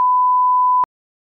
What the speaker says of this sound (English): You haven't done the beep.